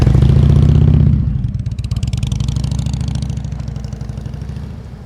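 Motorcycle engine during slow-speed riding practice, a loud steady idle that drops after a second into a lower, uneven throttling rumble with clattering vibration, close by and with no talk.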